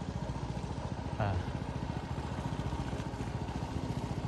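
A boat engine chugs in a steady low, rapid throb while docking at a pier on the Mekong River, close and continuous, with a brief rising voice-like sound partway through.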